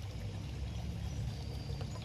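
Water pours steadily from a container onto a newly planted plant, a continuous soft splashing gush, close and fairly quiet, with no talking.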